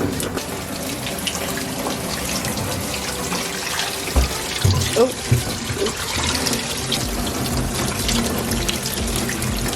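Water from a hose sprays onto a diesel engine air filter being rinsed clean, a steady hiss of spray running throughout with a few splashy bursts midway, while a person briefly speaks.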